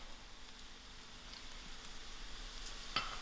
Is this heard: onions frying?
yes